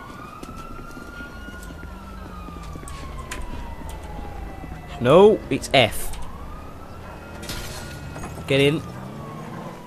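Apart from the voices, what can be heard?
police and ambulance sirens in GTA V video game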